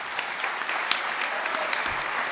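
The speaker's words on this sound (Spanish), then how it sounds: "pido un fuerte aplauso que es su cumpleaños" A room full of people applauds for a birthday at a talk on AI and human labor, a dense steady patter of clapping, fairly close, with no voices over it.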